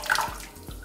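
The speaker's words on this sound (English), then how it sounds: "So we're just going to give it a good couple dunks." Synthetic wig dunked and swished in a basin of water while being rinsed, giving a brief splashy slosh followed by softer watery movement, close and moderately loud with no talking.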